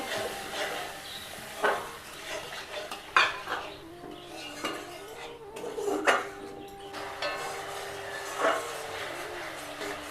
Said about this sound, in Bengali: সামান্য নুন, সামান্য জল দিয়ে আবার সুন্দর করে কষে নেব।